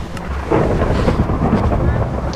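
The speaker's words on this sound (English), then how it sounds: "let's turn off the rain" Minecraft rain patters steadily while a deep thunder rumble swells in and rolls on, loud and close, with no voices over it.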